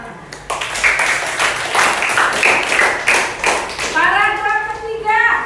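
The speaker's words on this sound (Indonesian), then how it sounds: "Iya, tepuk tangan." A class of sixth-grade children at an elementary school clap together in a burst of applause lasting a few seconds. A voice follows near the end.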